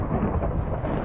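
Rain in the Minecraft video game, a dense, steady rumbling hiss with heavy low-end weight, loud and continuous throughout the short stretch without speech.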